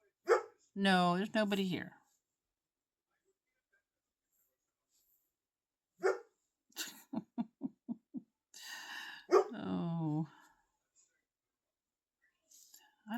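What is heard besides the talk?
dog barking, Great Pyrenees poodle mix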